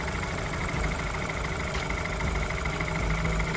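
A BMW F30 328i engine idles steadily after an oil change, a continuous low rumble with an even mechanical hum throughout and no voices.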